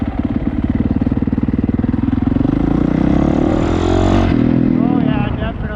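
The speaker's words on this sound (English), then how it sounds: "It sounds like an air leak, but it also sounds like the carburetor thing" Honda CRF450R motorcycle engine with a suspected air leak, running close by with a steady pulsing idle that rises briefly, with a voice speaking over it.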